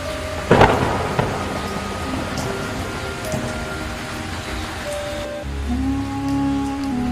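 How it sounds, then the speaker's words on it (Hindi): Steady heavy rain pours throughout, with a sharp crack and rolling rumble of thunder near the start, then lower rumbling later. "उसी रात गांव पर तूफान आ गया। तेज बारिश, आंधी और बिजली की चमक ने सब कुछ हिला दिया।"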